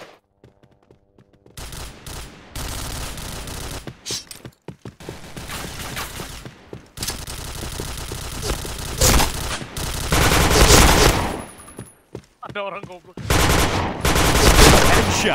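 Gunfire in the shooter game Point Blank: loud, close bursts of rapid automatic fire and single shots, separated by brief silent gaps, continuing throughout.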